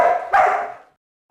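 Two quick excited barks from a dog ring out close and loud during a training session, the second a little higher, then fall silent.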